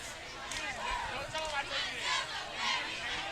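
Homecoming football crowd at Milton Hershey, a steady distant murmur and cheer from the stands, with a commentator talking over it.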